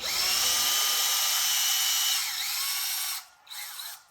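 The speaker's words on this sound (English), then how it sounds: "Gonna load the wire into the drill." Electric power drill spinning a length of wire into a twisted pair, a steady loud high whine held for about three seconds before winding down and briefly spinning again.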